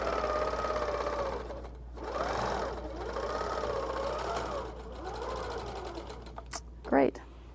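A Handi Quilter longarm quilting machine stitches a circle, its motor whirring steadily with rising and falling pitch as the needle moves around the curve, close and continuous before a brief clunk near the end.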